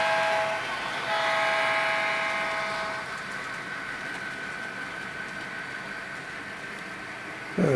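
Train on a Grande Pacific Railroad main line crossing the Colorado River toward a tunnel: sustained horn tones for the first few seconds over a running rumble, then a steady rolling noise fading slightly, with no talk.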